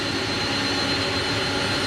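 Inibuilds Airbus A300 jet engines in Microsoft Flight Simulator 2024, heard from outside the aircraft as a steady, loud, broadband roar with a faint high whine, continuous and without voices.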